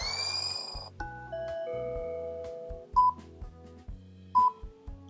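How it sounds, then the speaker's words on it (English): Short melodic ringtone-style jingle from the Anchor podcasting app's interlude sound library: a run of sustained synth tones over a pulsing low bass pattern, with a couple of bright chime accents near the end, heard alone. "Sounds like a little ringtone"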